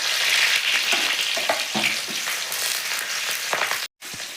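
Chopped ginger and garlic hit hot oil with a steady loud sizzle, close up, with light stirring scrapes over the constant frying crackle and a brief cut of silence near the end.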